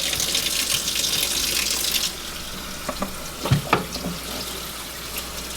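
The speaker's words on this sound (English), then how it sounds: "all you have to do to clean up this board is rinse it under some water" A bamboo cutting board is rinsed under a running kitchen tap, the water splashing as a steady close hiss. The flow then breaks into uneven splatters and drips as the board shifts beneath it.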